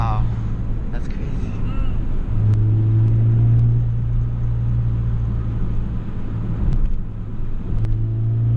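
A 2012 Honda Fit fitted with Beatrush engine mounts and Spoon rigid collars, its engine droning low and steady as it drives, heard from inside the cabin under a speaking voice.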